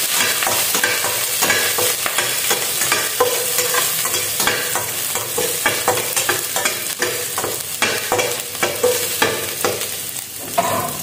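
Garlic stir-frying in a hot pan for a Filipino vegetable dish, giving a steady loud sizzle broken by repeated scraping and stirring clatter throughout, with no voices.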